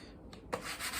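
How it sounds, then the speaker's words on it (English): Brief rough rubbing of sandpaper against a wooden walking stick, a short scratchy stroke that comes in after a quiet start and builds to a close, steady rasp. "So there, I've just taken maybe a minute to sand this."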